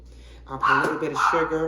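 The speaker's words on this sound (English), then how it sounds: "That's my dog, you guys. Excuse her." A dog indoors gives short barks and whimpers mixed in with someone talking in a kitchen, the animal sounds close and brief beneath her voice.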